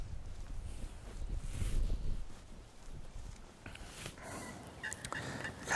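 A wild turkey gobbler gobbles in the open countryside, with a few rattling calls heard at moderate distance over rustling ground noise and some nearby movement.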